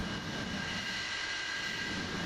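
A MiG-31 jet in the DCS World flight simulator taxis on the ramp, its engines giving a steady, loud, even roar with a thin high whine running through it and no speech.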